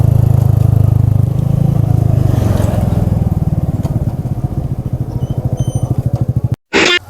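A scooter engine revs hard and holds a loud, throbbing drone during a long wheelie, close by, easing slightly toward the end before a brief cut and a sharp clatter.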